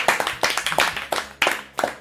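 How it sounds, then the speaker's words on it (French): Hands clap close by during a relaxed Burger Quiz game at home, a short run of loud, crisp claps in an uneven rhythm with brief gaps, and no talk. "Ben on applaudit."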